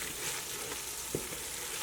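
Flour cooks in a pot for a pot pie filling, giving a steady, soft sizzle and hiss close by, with one brief stir or scrape near the middle and no talking.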